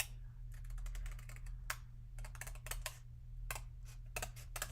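Scissors trimming around the white border of die-cut craft paper pieces, giving a steady run of quick, close, crisp snipping clicks in short bursts, alone without talk.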